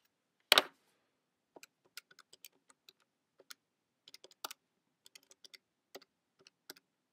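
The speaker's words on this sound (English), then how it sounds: "just type this into the calculator" A calculator has numbers keyed in: one sharp knock, then a quick run of light, scattered button clicks, quiet and close, with no voices.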